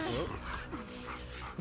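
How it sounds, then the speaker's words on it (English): A dog in The Last of Us Part 2 barks, yips and whimpers amid dense in-game noise and voices, the dog sounds mixed in rather than standing alone. "I'm glad the dog's here."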